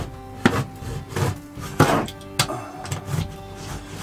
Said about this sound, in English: Just take a regular box cutter knife or blade or pocket knife or something like that and just kind of, you need to cut loose of all the caulk.